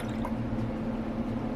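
Warm water pouring steadily into the tank of a Hoover Powerdash Pet Compact carpet cleaner, a continuous close gurgling trickle with no pauses.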